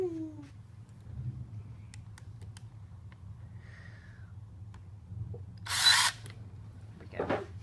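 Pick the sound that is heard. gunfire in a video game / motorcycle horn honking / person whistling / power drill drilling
power drill drilling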